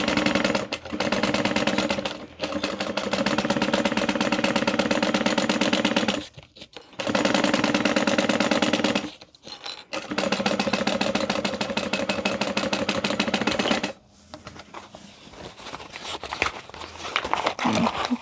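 Sewing machine stitching the top and bottom edges of a fabric handbag, a loud, fast rhythmic whirring hum in long runs broken by brief pauses, followed by quieter handling rustles of the fabric at the end.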